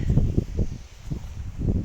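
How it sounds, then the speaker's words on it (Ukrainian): Wind buffets the microphone outdoors on a farm where young breeding goats are chosen, producing low rumbling gusts that rise and fall in uneven surges across the whole moment, loud and close with no voices. "Не знаю, як стати, щоб того вітру так не було."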